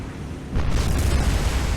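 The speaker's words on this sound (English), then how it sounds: "Ah yes, magazine explosion." Ship magazine explosion in the naval video game War on the Sea: a deep, heavy boom that swells in after a quieter lead-in and stays as a loud rumbling roar.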